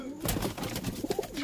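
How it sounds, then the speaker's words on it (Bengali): Desi pigeons coo at a pigeon tournament loft, several soft, low throaty coos rising one after another across a short stretch of close, fairly quiet sound. "বন্ধুরা দেখতে পাচ্ছ এই যে লব পায়রা, খুব সুন্দর সুন্দর পায়রা আছে"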